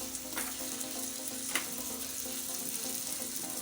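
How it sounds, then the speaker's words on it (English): Vegetables stir-fried with spaghetti in a pan, a steady soft sizzle with occasional stirring scrapes and a utensil tap. "Right now we're going to add all the veggies. to stir."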